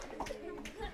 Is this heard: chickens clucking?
no